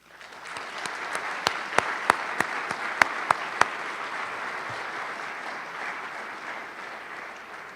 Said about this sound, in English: join me in acknowledging them with a round of applause.